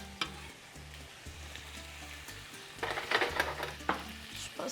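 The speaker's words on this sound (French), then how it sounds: "Je commence avec le poivron rouge, poivron vert, oignon rouge. Donc, on va les laisser revenir un peu." Red and green bell peppers with red onion sautéing in oil in a pan, a steady low sizzle with occasional stirring scrapes and a few louder clatters of the utensil, no voices.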